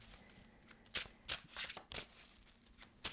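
Tarot cards are drawn from a deck with soft, quick papery slides and flicks, a handful of brief swishes close by in a quiet room.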